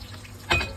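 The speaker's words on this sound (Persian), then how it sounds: "یک 2-3 قطره آبم بهش اضافه میکنم" A few drops of water hit onions frying in a pan, giving a brief sudden hiss of sizzle over the quieter frying.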